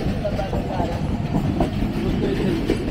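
Allama Iqbal Express rolling into Lodhran Junction, a steady loud rumble of carriages with rhythmic wheel clatter and faint squeals, heard from on board the moving train.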